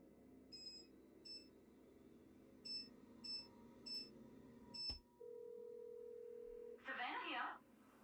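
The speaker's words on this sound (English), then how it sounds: "let's give her a phone call" Telephone call in a Nancy Drew video game: six evenly spaced dialing beeps, a long steady ringing tone, then a brief burst of noise as the line connects, with faint background hum throughout.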